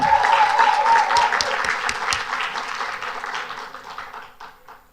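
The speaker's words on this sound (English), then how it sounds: "another round of applause for our winners, the Academic School of Learning" An audience at an engineers' debate applauds the winning team, a brisk round of clapping that starts strong and tapers away over about five seconds, with a faint tone early on.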